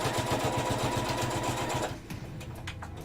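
A sewing machine stitches small keychain bags in a steady, fast mechanical chatter for about two seconds, then stops, leaving faint scattered handling clicks and rustles.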